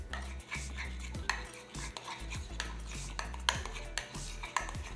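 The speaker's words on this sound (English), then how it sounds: "grab the remaining portions of your Oreos and mix it into the mixture" A spoon stirs crushed Oreo cookies into a Greek yogurt dessert mixture in a bowl, giving repeated soft scrapes and clinks against the dish in a steady rhythm, close and moderately loud, with no voices.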